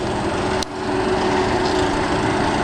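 A small engine drones steadily and loudly along a road in Key West, a constant buzzing hum with one brief dip near the start and no voices.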